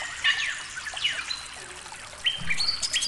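Forest birds, such as magpie robins and bulbuls, sing and chirp in varied, overlapping calls against a faint trickle of water, with sharp high phrases coming from several directions.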